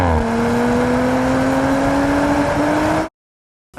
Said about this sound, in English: An exhaust system that makes the car sound like...